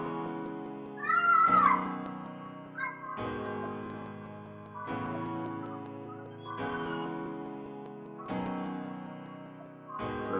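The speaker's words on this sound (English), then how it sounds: "So the piano sound like this." FL Studio grand piano preset playing a sequence of sustained chords in evenly spaced blocks, moderately quiet with a short gliding tone near the start.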